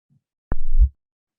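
Gravitational-wave signal played back at its detected frequency, a single very short, low, muffled thud preceded by a brief click, alone in silence.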